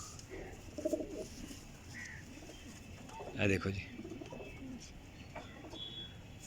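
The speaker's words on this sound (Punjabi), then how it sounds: "ਇਹ ਕਬੂਤਰ ਵੇਖੋ" High-flyer champion pigeons coo softly in the background at low level, with a few faint chirps, while someone talks close by.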